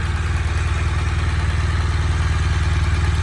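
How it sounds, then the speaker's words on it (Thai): A 2018 BMW GS 1200 motorcycle with about 30,000 km on it runs at idle close by, a loud, steady low throb with even mechanical clatter layered on top, uninterrupted throughout. "ฟังเสียงเครื่องยนต์นะ"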